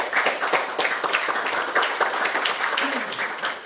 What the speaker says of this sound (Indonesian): Kita beri aplaus Pak.